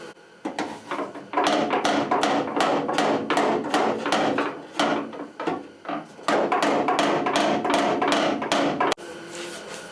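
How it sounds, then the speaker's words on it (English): A small round hammer taps repeatedly on the sheet metal of a Chevy C10 cab corner, giving a steady run of close, sharp metallic knocks with brief pauses between bursts. "I'm using this little round hammer here too, so it won't crease all the metal up or nothing."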